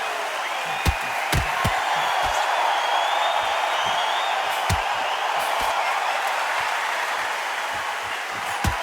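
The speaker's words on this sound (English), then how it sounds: "A rowdy crowd awaits our main event tonight." A large boxing arena crowd in a video game roars continuously, a dense steady wash of voices with scattered thumps and claps cutting through.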